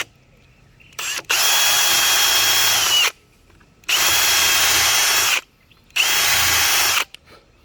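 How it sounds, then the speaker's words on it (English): A power drill pre-drilling holes whirs close by in three sustained bursts of about two seconds each, separated by brief silences, with no talking. "I am pre-drilling these holes"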